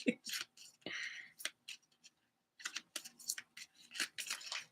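Tarot cards are shuffled close by in a series of quick, papery riffles and flicks that come in short bursts with brief pauses between them.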